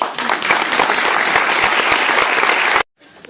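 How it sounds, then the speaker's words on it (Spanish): Audience applause at a financial intelligence talk as the presenter steps onto the stage: close, dense clapping that swells quickly, holds strong for almost three seconds, then cuts off abruptly into near silence. "Ahí pueden dar un aplauso mientras yo me subo."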